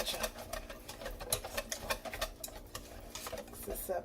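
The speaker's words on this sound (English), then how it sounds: "Mix this up really nice" Broccoli being tossed with sriracha sauce in a bowl, quick irregular clicks and wet scrapes of a utensil against the dish, close and fairly quiet.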